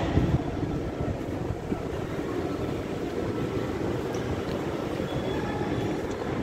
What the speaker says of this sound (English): The next train to arrive on platform 4 terminates here.